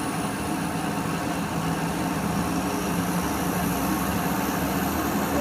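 A Cessna Conquest II turboprop engine starts up with a steady, even whine and rumble, loud and close, that holds without a break and with no talking over it.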